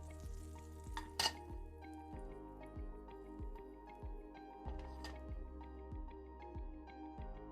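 Chicken and onion fry in a pan for a creamy white karahi, a quiet continuous sizzle under regular knocking stir strokes that recur about every half second, with a couple of sharper clinks early on.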